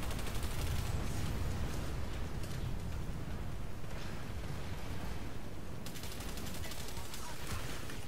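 Rapid automatic gunfire from the AF-4 Cyclone in the video game Planetside 2, dense and continuous bursts that fill the whole stretch, with a brief change in texture near the end.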